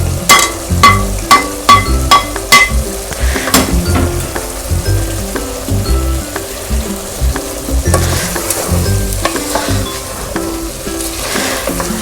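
Chopped ginger and garlic hit a pot of frying mutton stew, giving a loud, steady sizzle with repeated sharp clinks and knocks of a spoon against the metal as the mixture is stirred.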